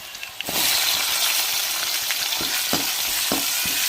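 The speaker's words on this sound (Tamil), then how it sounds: "வெட்டி வச்ச பெரிய வெங்காயத்தையும் எண்ணெயோட சேர்த்துக்குருவோம்" Chopped garlic and large onion frying in hot oil for a dried anchovy gravy, a steady close sizzle that jumps up after a quiet start, with a few stirring scrapes.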